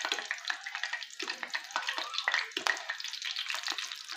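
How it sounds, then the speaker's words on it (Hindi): Green chillies frying in hot oil for stuffed chilli pakoras, a steady dense sizzle with bubbling crackle, up close and continuous throughout without speech. "इसी तरह हम मिर्चों को फ्राई करके इसमें डालते जाएंगे"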